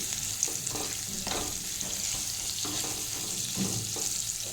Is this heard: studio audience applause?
no